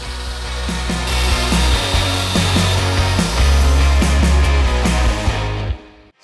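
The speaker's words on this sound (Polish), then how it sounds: "W tym celu weźmiemy szlifierkę taśmową i spróbujemy ustawić ją jak najbardziej prostopadle do powierzchni." A belt sander grinds against wood nearby, loud and continuous, with a rhythmic rasping pulse, then cuts off at the end.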